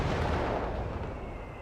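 A mortar fires in the wartime strategy game Company of Heroes 3, giving a heavy, booming artillery blast that fills the whole moment and rumbles out loudly, with no voices.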